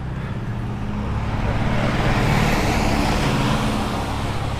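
A large truck rolls past close by on a road, its loud, steady roar of engine and tyres building slightly toward the middle and filling the whole stretch with continuous traffic rumble.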